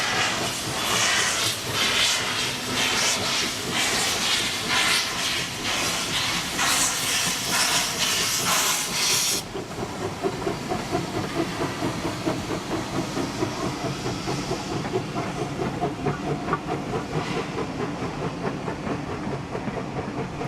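Steam locomotive 2705 pulls away from Thirlmere station in New South Wales on the loop line shuttle, opening with a loud, steady roar of escaping steam before it gives way to a rhythmic chuffing and rolling clatter of the train close by.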